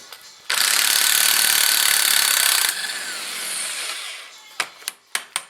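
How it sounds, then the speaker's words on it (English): A loud burst of an impact wrench breaking loose a rear strut nut on a 1995–2006 Neon, hammering steadily for about two seconds, then a softer whirring and several sharp short clicks and clanks near the end. "I've got my impact wrench, and I've got a socket, and we'll just go ahead and break this loose here"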